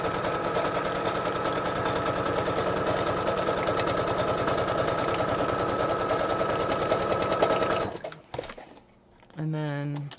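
A sewing machine stitches through a paper tag-folio pocket in a fast, continuous rattling run lasting several seconds, then stops, followed by brief handling noise and a short hum.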